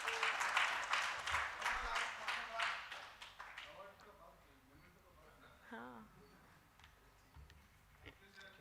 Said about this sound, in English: Can we have a great round of applause, please?